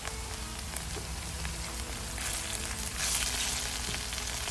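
Thai red curry paste frying in oil as it is stirred, a steady low sizzle with faint scraping, swelling slightly louder toward the end, alone without talk.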